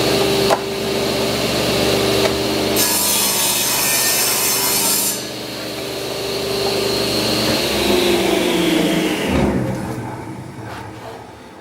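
Table saw ripping a piece of wood against the fence, with a loud, steady motor whine and blade cutting noise held for several seconds, then the blade spinning down near the end.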